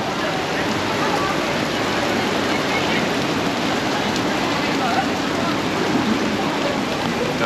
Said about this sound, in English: It's storming out. Severe thunderstorms,